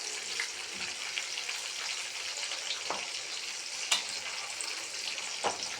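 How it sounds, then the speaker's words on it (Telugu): Chicken fries in a pan, giving a steady, close crackling sizzle of hot oil with occasional sharper pops and faint stirring scrapes, no voices over it. "ఇంకొంచెం ఫ్రై అవ్వనిద్దాం."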